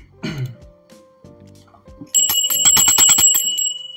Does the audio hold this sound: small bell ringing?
yes